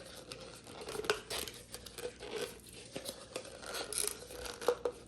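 A lottery scratcher ticket folded into plastic cling wrap for a Christmas wrap-ball game, making faint, soft crinkling and rustling in short irregular bursts, with no speech.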